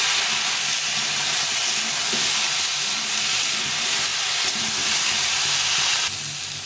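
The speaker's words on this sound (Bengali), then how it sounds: "আর একটু হলুদ গুঁড়ো দিয়ে এটাকে ভালো করে ভেজে নেব।" Cauliflower and potato pieces fry in a pan with turmeric and salt, giving a continuous, fairly loud sizzle and hiss with faint stirring noises underneath.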